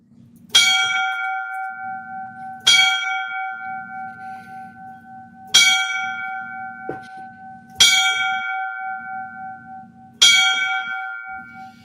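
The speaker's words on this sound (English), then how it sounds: "We're going to give him the 5 bells here." Five slow, evenly spaced memorial bell strikes for a line-of-duty death, each ringing out with a long fading tone before the next, heard alone in a quiet space.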